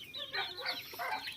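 A chicken, a cross of native and upgraded native breeds, clucks and murmurs in a few quick, close bursts with a soft background hum.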